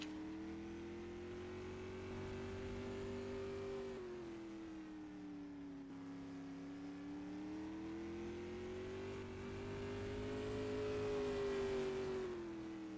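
A race car engine, carried on a dirt-track warm-up lap in a Super DIRTcar-style time trial, drones steadily near and loud, its pitch rising and falling smoothly through two long swells with no talk over it.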